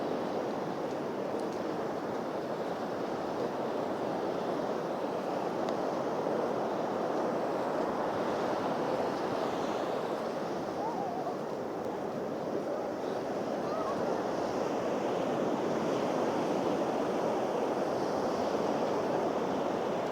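Gentle sea waves washing onto Pakala beach, a constant soft roar of surf with some wind rushing across the microphone and no distinct breaks.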